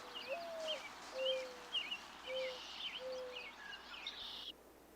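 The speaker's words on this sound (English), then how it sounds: "like this mourning dove." Four soft, low coos from a mourning dove repeat at an even pace, faint and distant, while other birds chirp higher in the background outdoors.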